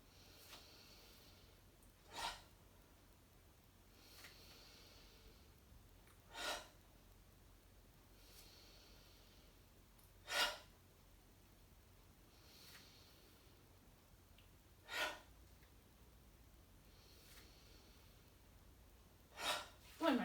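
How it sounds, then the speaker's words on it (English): Deep breathing in a qi gong class, with slow, airy inhales and exhales recurring roughly every four seconds, soft and close against a quiet room. "Inhale up, exhale down."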